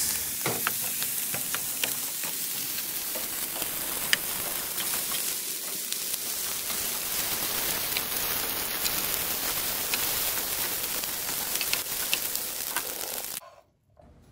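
Kakinotane fried rice stir-fried in a wok, with soy sauce seared against the hot metal: a steady, close sizzle and crackle of frying runs throughout, then cuts out abruptly at the end.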